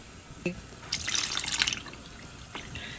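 Water is poured into a pot to fill one can's worth, with a brief splash and drip, then a short burst of running, gurgling water that fades into quiet.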